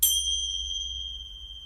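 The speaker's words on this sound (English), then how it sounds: "I've been asked for more bells" A yoga bell struck once, a bright sharp ding with a clean high ring that sustains evenly and fades slowly across nearly two seconds, heard alone close by.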